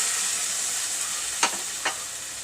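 Mashed colocasia leaves for a Malvani aluchi bhaji sizzle with a steady, soft hiss in a hot pan, with two quick stirring scrapes near the end, close and unaccompanied by talk.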